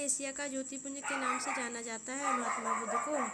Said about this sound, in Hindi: कुत्ते भूख रहे हैं बाहर